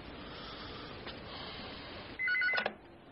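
A telephone in a TV drama rings back after another phone is dialed: steady background hiss, then a short, loud burst of electronic ringing tones near the end, with no voices.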